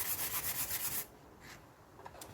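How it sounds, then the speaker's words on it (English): Fine 600-grit sandpaper rubs over a raised chalk-paint stencil in quick, soft back-and-forth strokes, close and quiet, with the scratching fading after a second into lighter, sparse rubs. "start sanding, and you can see the sand where I'm sanding, it's showing more of that raised pattern"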